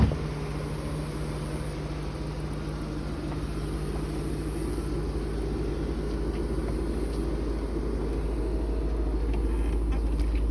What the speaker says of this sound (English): Now we're going to show you the top operation.